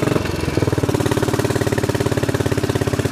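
A Royal Enfield motorcycle engine thumps in a loud, rapid, steady pulse up close. A brief clunky stumble near the start suggests the missed gear, and then the rhythm settles into an even beat.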